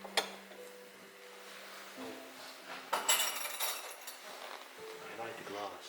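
China and cutlery handled in an abandoned French castle, faint clinks and light rattles of dishes and utensils, with a louder jangle near the middle and quiet talk throughout.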